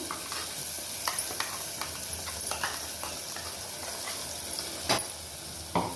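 Ground masala paste stirred through hot oil with sautéed onion and tomato for a Tirunelveli-style fish curry, a steady soft sizzle with scattered scraping clicks of the spoon against the pan.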